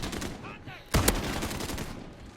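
A Model 680 shotgun firing slugs in Modern Warfare, a single loud close blast followed by a brief decaying tail over game background noise.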